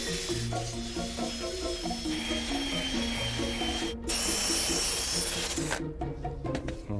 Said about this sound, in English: So now we'll shape this with the sander.